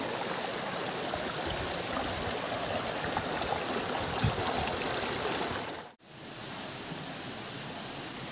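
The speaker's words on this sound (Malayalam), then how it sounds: "ഇവിടെ വെള്ളം ഒഴുകുന്നുണ്ട്" A steady, close wash of flowing stream water in the Marayoor forest near Kanthalloor, broadband and unbroken apart from one brief dropout near the end.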